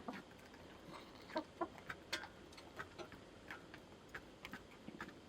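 Soft clucks and scattered short calls from a backyard rooster and hens in a homestead chicken coop, faint and somewhat distant, with irregular little ticking pecks throughout.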